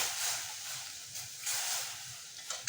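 Milk poured into a hot wok (kadai) while making khoya malpua, giving a faint, steady hiss and sizzle with a few soft bursts, quiet and alone.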